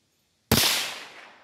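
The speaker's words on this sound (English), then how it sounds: "now we're going to try the old Henry lever gun, the cowboy gun" A single sharp crack from a Henry lever-action rifle firing Aguila 22LR Interceptor ammunition, close and loud after a brief silence, with a short decaying tail.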